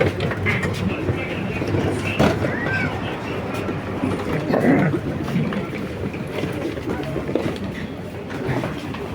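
A Delhi Metro train at New Delhi Metro Station, a loud continuous rumble and rattle of the cars close by, with voices talking faintly beneath the noise.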